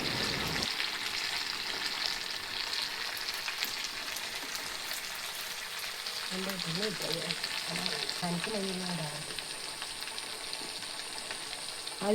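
Malabar neypathiri, a rice flatbread, frying in hot oil in a pan, a steady crackling sizzle throughout with a brief, faint voice in the middle.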